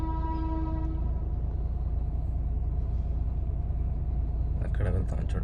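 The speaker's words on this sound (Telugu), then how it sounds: "ట్రైన్ అయితే వస్తూ ఉంది. వినిపిస్తూ ఉందా ట్రైన్ సౌండ్?" A train approaches near a closed railway crossing on the old Madanapalle–Tirupati route, a loud steady rumble with a sustained horn blast at the start, heard from close by beneath noisy wind or road sound.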